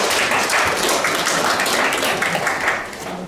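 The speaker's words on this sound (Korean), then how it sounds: "박수로 시작하겠습니다." Applause opening a policy forum on protecting platform freelance workers' rights, a roomful of people clapping steadily and fairly loudly, tapering off slightly at the end.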